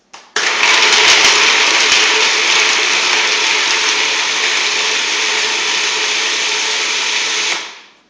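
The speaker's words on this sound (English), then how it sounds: "I'm just going to go ahead and just pulse this for a couple times" A food processor runs on nuts in one continuous loud whirring burst of about seven seconds, starting abruptly and winding down at the end, with no talking.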